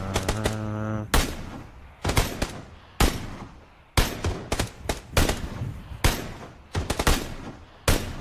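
Gunfire in the video game PUBG: sharp, loud single shots and short bursts, spaced irregularly about a second apart, with a brief tonal game sound at the start.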